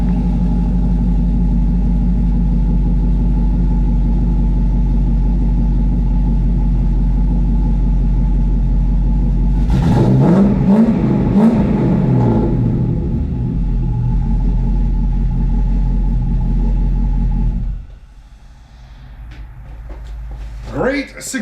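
A 1989 IROC with an LS V8 swap idles steadily and loud after a Walbro 255 fuel pump install, a deep constant rumble with a brief rise midway before the engine shuts off and a voice follows.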